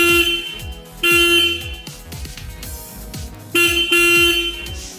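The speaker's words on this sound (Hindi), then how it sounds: "अब मैं दोस्तों इसके हॉर्न को भी ऑन करके आपको सुना देता हूँ।" A Royal Enfield Hunter 350 motorcycle horn beeps several times in short, loud bursts over its ticking idling engine nearby.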